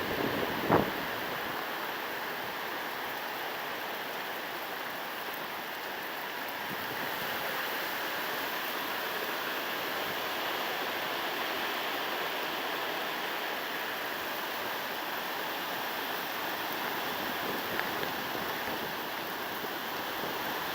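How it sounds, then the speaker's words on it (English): Steady roar of wind and surf during Hurricane Irene, a continuous broadband rush of gusts and crashing waves that swells slightly at times, with one brief sharp knock near the start and no voices. "we get some nice gust."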